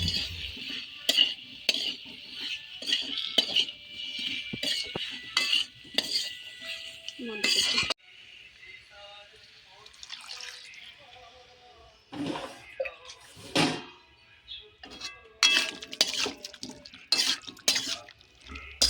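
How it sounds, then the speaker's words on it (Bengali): Potato and jackfruit pieces being sautéed with spices in a pan, heard as a run of rapid metal spoon clinks and scrapes against the pan, pausing briefly midway before resuming with more clattering strokes, close and crisp. "এবার আলু আর এঁচোড় মশলার সঙ্গে ভালো করে কষিয়ে নিয়ে এতে জল দিয়ে ভালো করে সেদ্ধ করে নেব"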